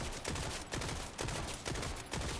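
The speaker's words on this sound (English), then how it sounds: "this weapon is a burst weapon" The Whiskey Foxtrot burst weapon fires in Borderlands 4, sounding as loud, dense bursts of rapid gunfire that repeat about every half second, with brief gaps between them.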